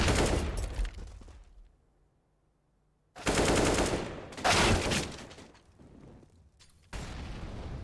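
Bursts of rapid automatic gunfire from a CS:GO match, a loud volley, a pause, then two more close, dense sprays with a short gap between them, no voices.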